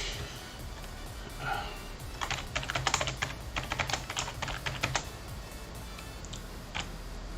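Fast bursts of clicking keystrokes on a computer keyboard, close and crisp, arriving in uneven clusters after a quieter start and tapering off near the end, with a low hum underneath.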